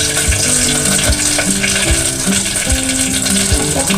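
Mustard seeds and lentils crackle and sizzle in hot oil, a dense, steady frying hiss broken by small pops and stirring scrapes, close and without talk.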